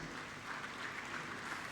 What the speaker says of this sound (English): Let's give them hearty claps.